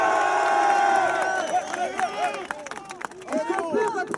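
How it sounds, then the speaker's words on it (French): A crowd at a Belgian political rally cheers and shouts, with raised voices rising and falling over a continuous roar and scattered clapping. "Des applaudissements pour Raymond."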